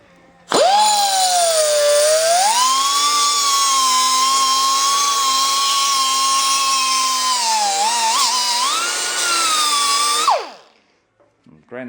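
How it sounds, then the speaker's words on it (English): A power grinder works on the upper suspension arm of a Datsun 521 pickup. It whines loudly and steadily for about ten seconds, the pitch sagging and recovering under load, then spins down to silence. "I'm grinding on the thing there."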